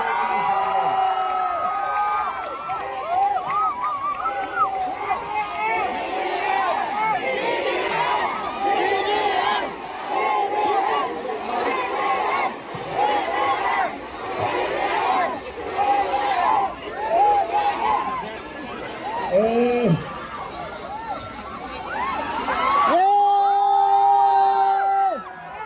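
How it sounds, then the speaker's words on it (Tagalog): A large political rally crowd in Masbate cheers and shouts loudly and continuously, with young women's high-pitched screams rising throughout and a burst of piercing shrieks near the end. "lalo na yung mga dalaga, humihiyaw talaga"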